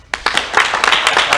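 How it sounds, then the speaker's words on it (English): Short burst of applause at an award presentation, several nearby hands clapping quickly and loudly in a brisk, uneven patter. "a nice round of applause"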